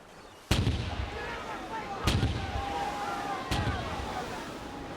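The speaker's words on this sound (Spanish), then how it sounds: "Ese fue el primer cañón que se disparó desde el Victory en la batalla de Trafalgar." Cannon fire from HMS Victory at the Battle of Trafalgar: three loud, sharp booms spaced roughly evenly, each followed by a rumbling tail, over a steady background with a faint sea-like wash.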